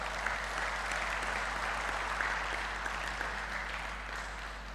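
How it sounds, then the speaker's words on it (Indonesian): Event audience at a reunion gathering applauding steadily, a dense, continuous clapping that fills the room for the whole stretch without talk. "tepuk tangan bukan untuk saya tapi untuk Anda sekalian"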